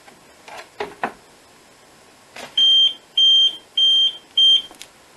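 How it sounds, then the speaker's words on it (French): A few clicks and knocks, then four evenly spaced electronic fault beeps from an alarm control panel, each about half a second long, repeating in a steady on-off pattern. "les défauts, c'est toujours un bip discontinu"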